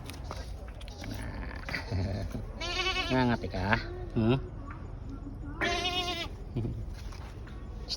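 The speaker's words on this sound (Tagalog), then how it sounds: "ng cute na cute na kambing na to" A goat bleats nearby in two loud, wavering calls a few seconds apart, with people talking and laughing around it.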